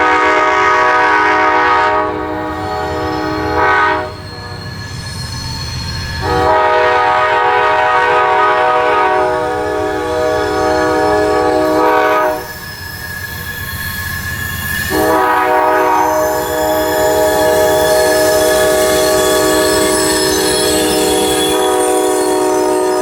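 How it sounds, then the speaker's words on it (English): An Amtrak Auto Train passing at speed near Jacksonville, loud and close, with long sustained horn blasts sounding repeatedly over the rumble and rattle of the wheels and cars. "The auto train is not a train you can usually chase and see twice in an outing."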